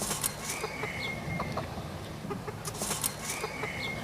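A caged hen clucking amid a busy farm shed, soft repeated clucks and bird calls over a constant dense background of other fowl and machinery hum.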